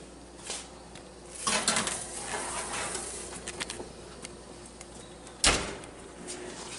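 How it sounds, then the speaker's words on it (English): A pan of steak goes into an oven with a metallic clatter and a door clunk, followed by small kitchen knocks and a sharp bang near the end, all fairly quiet and close. "So let's put it in the oven."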